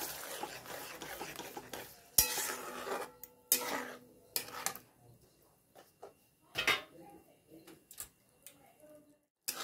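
A spoon scraping and stirring paneer masala gravy in a pan, with faint irregular rubbing and clinking strokes that come in short bursts and fade into quieter moments.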